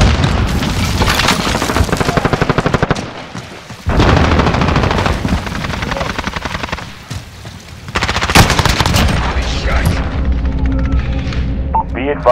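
Modern Warfare gameplay with an M4A1 (AR-15): loud, close rapid bursts of automatic rifle fire interrupted by heavy booming grenade blasts, with brief lulls between volleys and voices calling out over the action.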